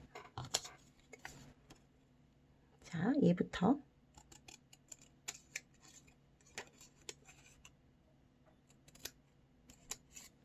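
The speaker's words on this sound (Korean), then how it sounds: "이제 이 친구들을 그대로 가위로 싹둑 싹둑 잘라주겠습니다." Scissors snipping through folded colored paper, a series of crisp cuts and rustles spread across the span with one louder burst of handling, while a voice speaks briefly near the start.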